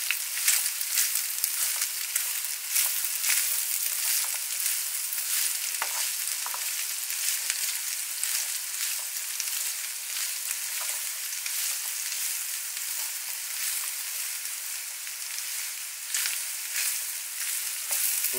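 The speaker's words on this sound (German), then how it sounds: "das Gemüse jetzt ca. 5 Minuten mit dem Gehacktes weiter anbraten." Vegetables fry with minced meat in a pan, making a loud, continuous sizzle with crackling pops and occasional stirring scrapes throughout.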